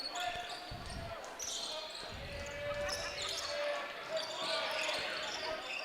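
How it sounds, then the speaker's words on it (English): A basketball bounces in the corner of a gym during a high school boys' game, its thumps scattered and partly buried under crowd noise and an announcer's voice. "ball bouncing in the corner"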